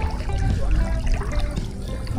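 Water sloshes and trickles continuously at close range as someone wades into warm water, with low churning splashes.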